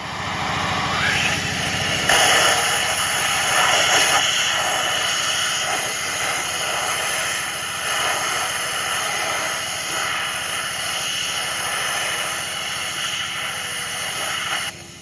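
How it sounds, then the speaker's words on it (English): Walnut-shell media blasts against the intake valves of a Hyundai i40 engine as a continuous, close, loud air-driven hiss and roar with small fluctuations, running for the whole span without talk. "Okay, walnut blasting completed"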